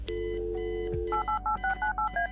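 Room phone in the Kathy Rain video game being dialed, with a low tone dropping away before a run of seven crisp touch-tone beeps in an even rhythm, loud and close.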